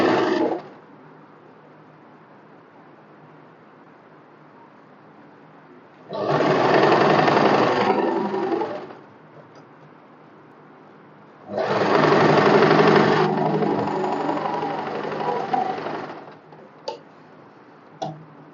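Domestic sewing machine stitching cotton fabric for a summer one-piece dress, with two long steady runs of rapid mechanical clatter and a short burst at the start, separated by quiet pauses, close and prominent.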